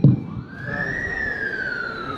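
A wailing siren from the presidential motorcade at the inauguration ceremony at Malouzini stadium in Comoros rises and holds in one long, steady sweep, loud and fairly close, with a short low rumble at the start.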